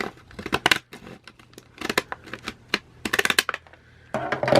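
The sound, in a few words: decorative scissors cutting open a package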